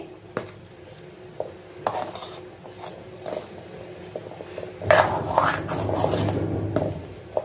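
Ghee being stirred into gram flour (besan) in a pan, heard as close, intermittent scraping and rubbing of a spoon against the pan, with a louder stretch of mixing near the end.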